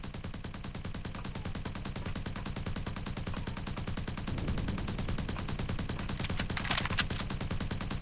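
Sustained rapid gunfire in the space game Empyrion, a dense continuous stream of automatic shots with a brief higher burst near the end, loud and unbroken with no speech.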